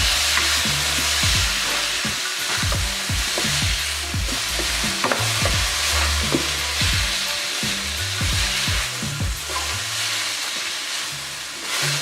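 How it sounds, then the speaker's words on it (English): Peppers and minced garlic sauté loudly in a pan for grilled shrimp scampi. A steady close sizzle is broken by repeated scraping stir strokes, with no voices. "So while the peppers are sauteing, we're going to add some minced garlic and let that saute in there as well"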